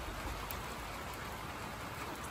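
Steady rain falls outdoors on a cold day in maple sugar season, a dense, even hiss with no voices throughout.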